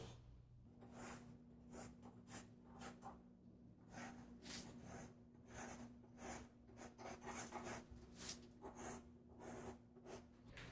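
A wet first coat of mortar on a shower curb being scratched with a tool, steady repeated rasping strokes in quick irregular rhythm, close and fairly quiet, no talking.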